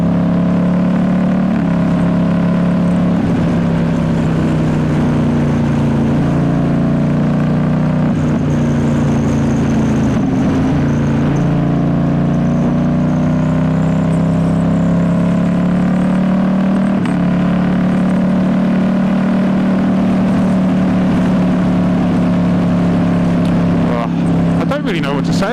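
A 2019 Ducati Diavel S motorcycle fitted with a full exhaust system drones steadily while riding, a loud continuous engine tone with slight pitch shifts as a rider talks over it.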